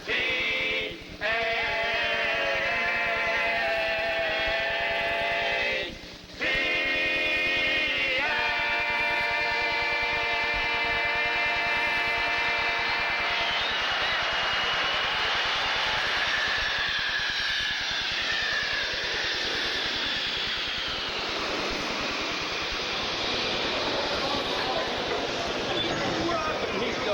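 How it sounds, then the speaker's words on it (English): A Pittsburgh airport transit train heading for the concourses pulls away. Sustained tonal voices come first, then a building rumble and rush of the moving train that stays loud to the end. "This transit is departing for concourses A, B, C, and D."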